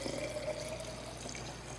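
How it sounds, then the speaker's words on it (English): Milk pours into a clean glass jar in a kitchen, a continuous soft liquid trickle and splash rising slightly in pitch as the jar fills, close and without talk. "Pour it in a jar, a nice clean glass jar."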